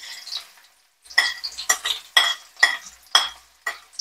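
Onion stirred into hot oil with popped mustard seeds and browned urad dal for rava upma, a sequence of short, close scraping and sizzling stirs in a steady rhythm after a brief pause, with no talking.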